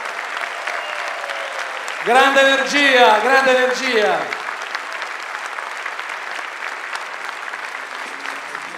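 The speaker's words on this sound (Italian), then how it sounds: "un grande applauso" A concert crowd at a May Day show with a tambourine orchestra claps steadily throughout, with someone shouting over the applause in the middle.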